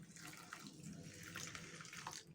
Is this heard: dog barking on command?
no